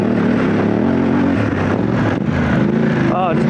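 A BMW adventure motorcycle on Motoz Tractionator tires churns through soft ground, its engine a steady, loud, laboring drone with wind rush over it throughout.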